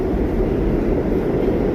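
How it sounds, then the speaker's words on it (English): A D subway train rumbles through Kingsbridge Road station on the Grand Concourse, a loud, steady low roar that fills the platform without a break. "Was that a D train?"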